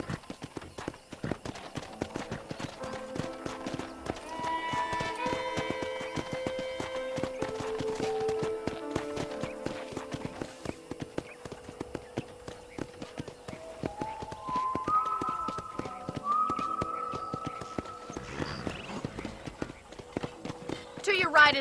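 Horse hooves clip-clop steadily in the Red Dead Redemption video game, a brisk, even rhythm of close, crisp taps running throughout, joined by soft music and spoken voices.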